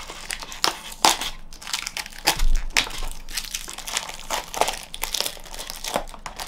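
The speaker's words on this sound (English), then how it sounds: "Let me just cut the tape off and I will show you." Packing tape being cut and peeled off a cardboard shipping box with a knife, a series of crinkling, crunching tears and rustles coming in irregular close bursts with no talking.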